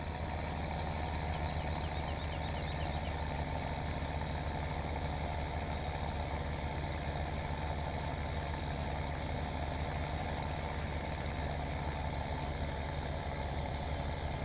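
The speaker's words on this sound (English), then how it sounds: "this tractor is very underpowered, so that's why we're having problems making it up the hill" An underpowered tractor engine in the video game Farming Simulator 17 labouring uphill, a steady, loud, continuous drone with no change in pitch and no talk over it.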